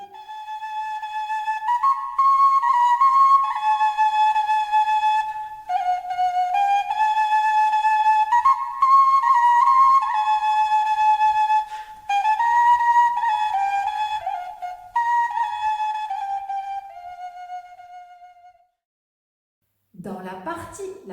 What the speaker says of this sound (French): Abiwana a un son aigu et clair.